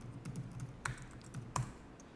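Keys on a computer keyboard click softly and close by, with a couple of sharper presses standing out, one likely the Enter key, over a faint background hum.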